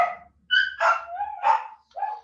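Dogs bark close by in a house, a string of four or five sharp barks and yips in uneven bursts with brief silences between, loud and with no other sound.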